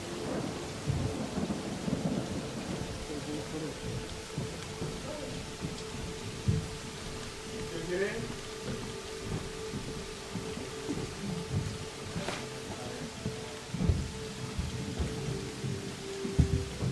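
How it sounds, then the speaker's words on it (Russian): Steady rain falls throughout a fishing trip by boat along rocky shores, with rumbling thunder rolling in the background and a few louder cracks, no voices. "Дождь лил на протяжении всей рыбалки."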